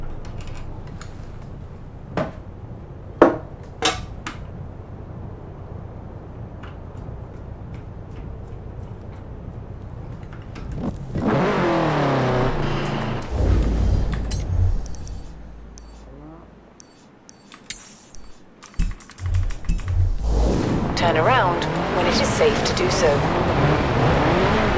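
Subaru STI engine from Forza Horizon 4 driven on tyres without snow tyres, revving and roaring with passing-car sweeps and some tyre noise, loud and continuous, with a speaking voice over parts of it.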